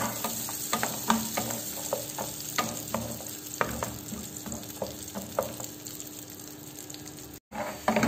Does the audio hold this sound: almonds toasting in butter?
yes